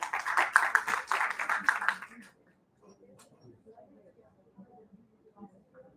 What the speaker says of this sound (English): let us all give her a big warm applause.